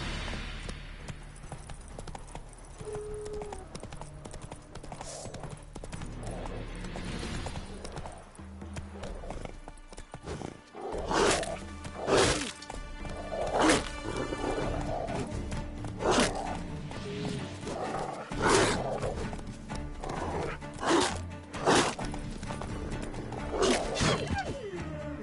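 Roach, the horse in The Witcher 3, gallops with steady clip-clop hoofbeats, then louder sharp thuds and snorting breaths break in as the pace picks up, with a faint murmur of music underneath.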